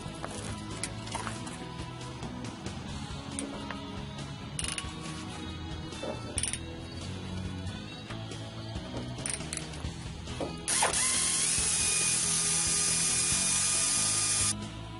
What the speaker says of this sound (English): I think we're ready to remove the caliper bolts.